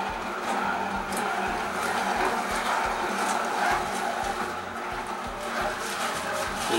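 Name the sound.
Hurom SBB11 juicer auger taking in spinach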